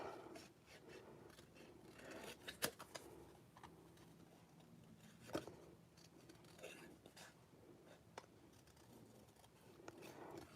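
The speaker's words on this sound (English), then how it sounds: "we're gonna have to do a little fussy cutting around both the monkey and the branch" Scissors snip around a paper monkey-and-branch stamped image during fussy cutting for a handmade card, a steady run of small, close snips and paper rasps at low level with a faint background hum.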